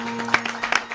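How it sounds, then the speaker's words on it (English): A TV studio audience's applause, short and moderately loud, with a steady electronic hum beneath the clapping. "Our next guest is really applauding for herself"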